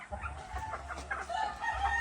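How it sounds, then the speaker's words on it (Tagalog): Farm chickens cluck and call close by in a short burst of overlapping bird sounds with low background rumble, no talking. "Mga inahin"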